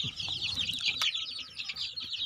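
A cluster of 28-day-old Sonali native chicks peeps and chirps constantly at close range, a dense high-pitched chatter with a few sharper clucks mixed in.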